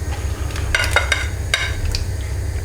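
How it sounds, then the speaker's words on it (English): Potatoes lowered with a slotted spoon into hot seasoned oil for a vegan curry, a steady close sizzle with a few clinks and stirring scrapes, no talking. "So next thing we want to do is add our potatoes and fry those off."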